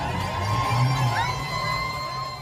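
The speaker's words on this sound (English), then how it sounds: "Crowds were seen cheering from the rooftops and balconies, in some cases dancing in the streets." Crowds cheer from rooftops and balconies in Iran, a steady, loud wash of distant voices with whoops and shrill whistles rising above the roar.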